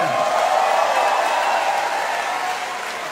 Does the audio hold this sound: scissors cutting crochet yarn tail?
no